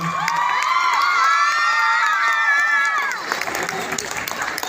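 Loud crowd cheering at an annual prize-giving ceremony, with shrill shouts and whoops over steady clapping, fading slightly toward the end.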